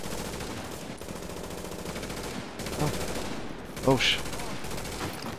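Sustained automatic gunfire from The Division video game rattles in rapid bursts across the clip, with a few heavier shots standing out near the end and a brief spoken exclamation.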